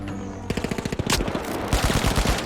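Video game gunfire as a player gets sniped: a rapid burst of close, loud shots in quick succession, followed by a heavier blast and more sharp reports.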